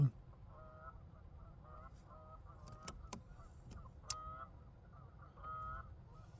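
Geese honk repeatedly at a distance during a goose hunt, a series of nasal calls in short bursts, with a couple of sharp clicks nearby and faint background noise.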